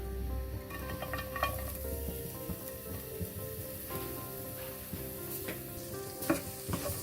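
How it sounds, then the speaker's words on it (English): Chopped garlic sizzles in oil in a frying pan for restaurant-style chili fish, a steady crackling fry with scattered pops and occasional scraping of a utensil, close and moderately loud. "Ideally we should be cooking this in a wok, but I'm doing it in a pan, so that's about it. So in goes some chopped garlic."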